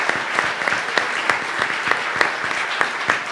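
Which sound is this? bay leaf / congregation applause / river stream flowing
congregation applause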